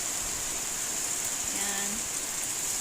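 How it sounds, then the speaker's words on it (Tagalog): Heavy rain pours down in a steady, dense hiss that holds evenly loud throughout, with a brief faint voice partway through. "Malakas ang ulan."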